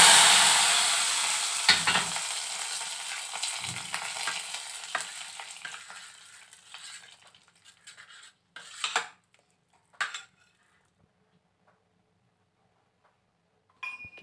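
Khichuri stirred in a pot over heat, a steady sizzle and scraping that fades over several seconds, then a few isolated scrapes and knocks against the pot separated by near silence.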